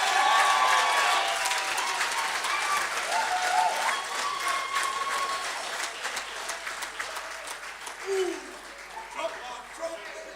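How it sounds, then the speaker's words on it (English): Guests at a rugby referees' annual awards dinner clap in a sustained round of applause, loud at first and gradually thinning, with a voice speaking over the tail end. "A round of applause to Ashley Jacobs"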